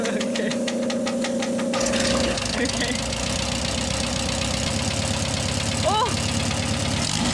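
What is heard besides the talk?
van engine idling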